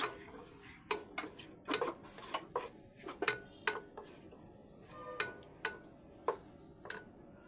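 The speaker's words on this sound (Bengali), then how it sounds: "এবার মশলাটা আমি ভালো করে কষিয়ে নেবো" A spoon scrapes and clanks against a pan while spice masala with salt, bay leaf and a little water is stir-fried for a beef and vegetable curry. The knocks come in an irregular rhythm, close and fairly quiet, with no talk.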